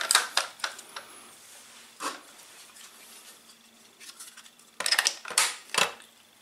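Mechanical clicks and clacks from the gate of a Secutor Velites S2 airsoft shotgun being opened, a quick cluster at the start, then sparser taps and a louder run of sharp snaps near the end, close up with no talking.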